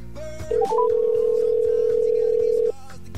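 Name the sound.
telephone dial tone after phone call dropped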